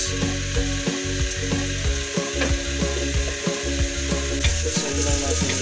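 Onions frying in a hot pan for Korean japchae, a continuous sizzle with rhythmic clattering of a utensil stirring against the pan, close and fairly loud.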